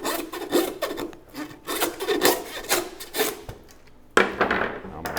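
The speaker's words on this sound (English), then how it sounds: "I'm going to take my handsaw and cut through these rib bones." A handsaw cuts through deer rib bones in uneven back-and-forth strokes, close and rasping, each pull a gritty scrape with brief pauses between, and a sharper knock near the end.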